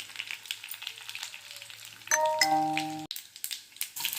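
Green chillies hit hot oil in a tempering of cumin, garlic and dried red chillies, setting off a close, crackling sizzle; a bright chime rings briefly partway through, with no talk.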